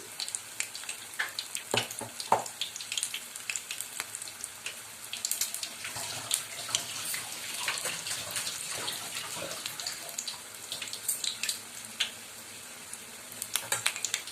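Four chilli fritters fry in hot oil with a continuous soft bubbling hiss and scattered crackling pops, fairly quiet and close, with no talking.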